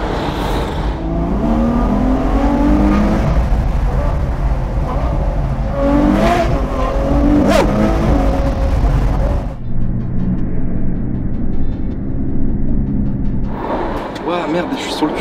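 A Ferrari 812 Superfast V12 accelerates hard, its loud rising engine note sweeping up through the gears before it drops to a lower drone, with people talking over it.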